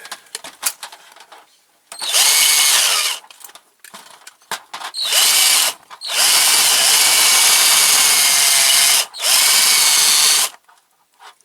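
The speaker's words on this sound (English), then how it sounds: "Try drilling a little bit more out." Loud power drill bursts grinding out a metal rivet on a Dinky Supertoys die-cast crane lorry, four long runs separated by short pauses with small clatters and handling noises between them.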